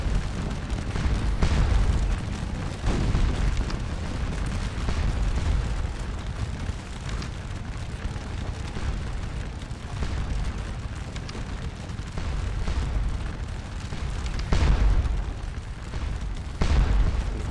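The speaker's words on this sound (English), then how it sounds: "Of course, bringing forward the cannons was probably also a good idea." Cannon artillery fire in the Napoleonic battle game Scourge of War Waterloo: repeated deep booms and blasts, loud and close, spread irregularly through a continuous rumbling battlefield din with no talking.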